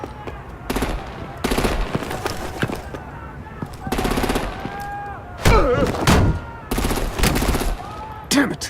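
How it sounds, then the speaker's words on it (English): Artillery gunfire aimed at vehicles in a Batman video game rattles out in several loud rapid bursts separated by short gaps, with a shouted voice briefly over the shooting. "Break out the artillery and disable their vehicles!"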